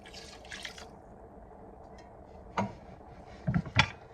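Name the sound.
water poured onto rice for Korean rice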